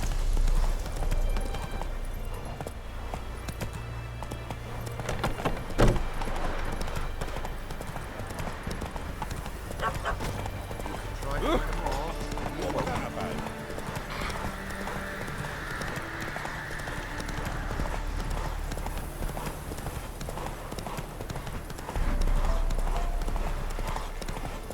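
Roach, Geralt's horse in The Witcher 3: Wild Hunt, gallops steadily with continuous clip-clopping hooves over a busy game soundscape of music and ambience, with brief voice snippets now and then.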